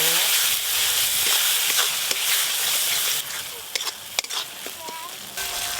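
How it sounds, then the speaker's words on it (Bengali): Sizzling and frying of a spice paste of mustard-poppy seed paste, chili paste and turmeric with melted tomatoes for a Bengali fish curry, a steady close hiss with a few stirring clinks toward the end. "মাছের ঝাল রান্নার জন্য মশলা একদম কষানো হয়ে গেছে"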